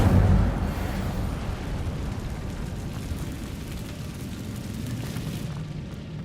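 An Incendio fire spell cast in Hogwarts Legacy, a deep whooshing burst that opens loud and settles into a sustained rumbling roar of flame, steady and full without talk.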